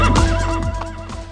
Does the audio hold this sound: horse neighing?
yes